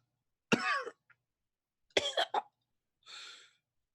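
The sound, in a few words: game master imitating a character coughing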